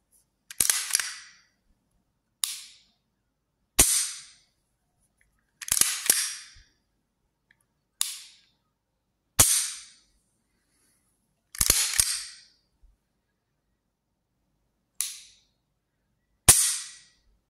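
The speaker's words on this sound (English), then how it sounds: "Here's the trigger pull and reset now." Beretta 92 XI pistol trigger being pulled and reset, sharp isolated metallic clicks, each followed by a softer reset click, repeated about nine times at irregular intervals in near silence, close and crisp.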